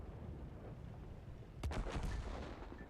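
A heavy artillery gun fires in a World of Tanks tank battle, a single sharp, loud boom that rolls off into a brief rumble over low, quiet background noise.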